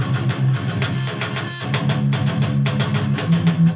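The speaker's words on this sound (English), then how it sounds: "If I was to play it completely palm mood," A distorted electric guitar plays a quick chugging riff entirely palm muted, giving tight, choppy, percussive notes in a steady driving rhythm, loud and up close with no talking.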